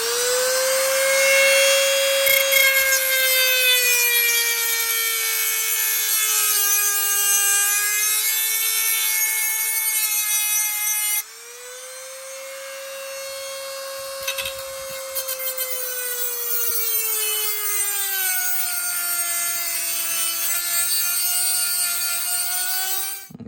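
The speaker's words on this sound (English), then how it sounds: "initially I'm just going to use a Dremel and try and cut the spot welds off" A Dremel rotary tool cuts through car body spot welds during a manual conversion, a loud, sustained high whine that shifts pitch as the load changes, briefly dropping and restarting midway.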